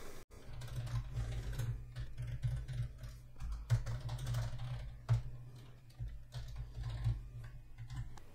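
Steady, rapid clatter of keys on a computer keyboard, with irregular taps and a few louder strikes at a close, even level and no talk.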